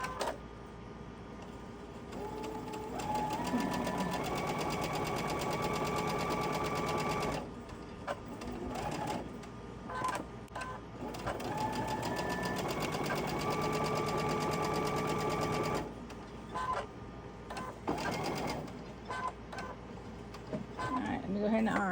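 A sewing machine stitches fabric in a home sewing room, running in long steady bursts with rapid mechanical clatter, pausing briefly between runs, close and clear.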